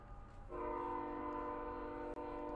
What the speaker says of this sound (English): Dude, I hate these fucking trains, man.